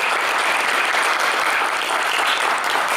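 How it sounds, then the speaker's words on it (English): An audience breaks into loud, dense applause for Dr. Gonzalez, a steady wash of clapping filling the room for a few seconds without letup. "Round of applause for Dr. Gonzalez."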